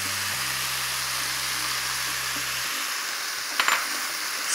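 Diagonally cut spring onions frying in a pan, a steady bright sizzle over a low hum that drops away, with a brief clatter of a utensil near the end and no speech.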